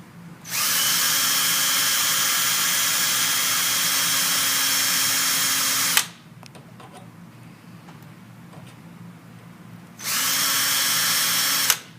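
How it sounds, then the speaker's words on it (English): An electric drill drills holes for a sagging screen hinge repair, running at a steady high whine for several seconds, stopping, then starting again; light clicks and handling noises fill the gap. "Drill your holes."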